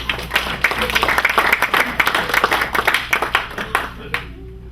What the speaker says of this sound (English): we'll give him a big round of applause